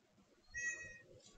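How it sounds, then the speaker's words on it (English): A single short cat meow, fairly faint, rising and falling over about half a second against a quiet room. "Meow? Does meow mean yes or no?"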